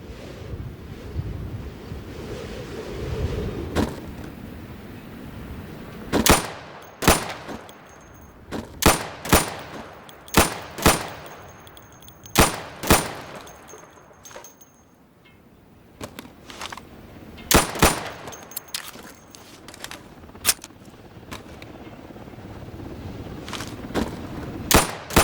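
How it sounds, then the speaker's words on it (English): In the video game Insurgency, sidearm pistol shots at pop-up targets ring out as sharp, separate cracks, fired singly and in quick clusters over a windy outdoor background. "So you can shoot accurately over 20 feet with your sidearm"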